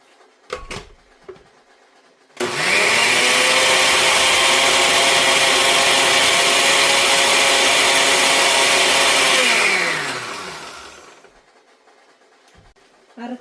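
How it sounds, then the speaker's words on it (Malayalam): Kitchen mixer grinder running at full speed on dried red chillies for chutney, a loud, steady whine that starts abruptly and winds down over a couple of seconds, with brief handling sounds before and after. "ഇത് ഉണക്കമുളക് ഇടുവായതുകൊണ്ട് നമ്മളിതൊന്ന് അരച്ചെടുക്കണം"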